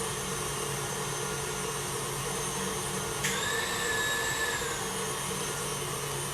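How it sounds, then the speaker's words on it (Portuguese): An electric stand mixer runs at raised speed while whipping macaron batter, giving a steady, close motor whine and hiss with a brief higher-pitched whir partway through, and no voices. "Eu vou aumentar um pouquinho a velocidade da minha batedeira."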